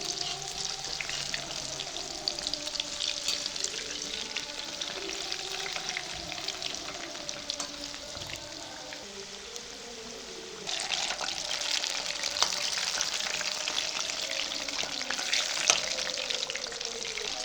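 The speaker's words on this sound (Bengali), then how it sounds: "গ্যাসের ফ্লেম মিডিয়ামে রেখে পিঠেগুলো ভেজে নেব" Satpuri pitha fry in oil in a pan over a medium gas flame, giving a steady, close sizzle that swells louder partway through, with faint stirring and no voices.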